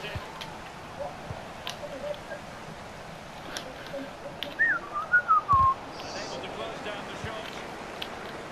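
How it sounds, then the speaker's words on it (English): A person whistles during a Pro Clubs football video game session, a short run of sharp rising-and-falling whistled notes heard amid quiet background game noise. "Every time someone makes a mistake, I'm just gonna tell you by whistling."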